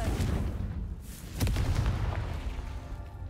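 Confringo fire spell exploding in the video game Hogwarts Legacy: a loud, booming blast bursts out midway through a dense rumbling game soundscape, with no one talking.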